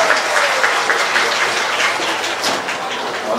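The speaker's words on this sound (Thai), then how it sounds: "ขอเสียงปรบมือครับ" An audience at a university arts and culture opening ceremony claps loudly and continuously, a thick crackling wash of many hands heard up close with no break.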